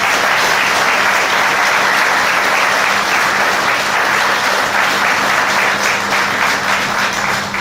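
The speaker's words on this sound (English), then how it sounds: "so give them a round of applause" A large crowd at a cleaning franchise's 25th anniversary ball applauds, a loud, dense, unbroken roar of clapping that stays at full strength throughout.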